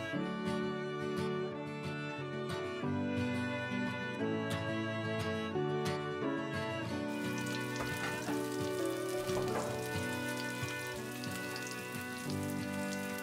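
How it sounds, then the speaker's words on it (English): Black bean burger patties fry in avocado oil in a pan, a dense, steady sizzle running under continuous music throughout. "Add avocado oil and place the patties into the pan."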